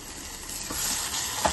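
Spicy kara chutney simmers and reduces in oil for hotel-style rava dosa, giving a steady close sizzle with soft stirring scrapes and a brief louder burst near the end.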